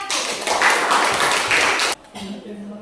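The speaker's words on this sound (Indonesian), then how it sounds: "kita kasih aplaus dulu untuk kelompok 1" Classroom applause for a student group, a short burst of many hands clapping that stops abruptly, followed by a quieter moment with a faint voice.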